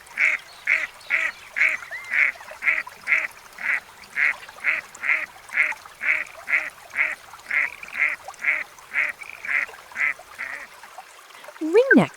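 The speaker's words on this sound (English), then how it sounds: "Redhead, Aythya americana." Redhead duck (Aythya americana) calls, a long regular series of about twenty nasal, cat-like notes repeated at a steady pace, heard close and alone.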